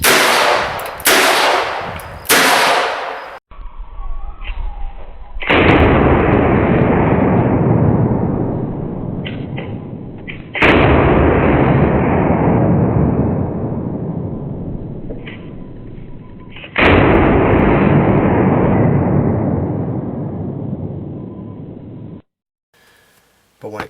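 Three .357 Magnum revolvers, a Taurus, a Ruger and a Smith & Wesson Model 66, fired one after another. Each very loud shot booms with a long ringing tail, and several sharp bangs come earlier.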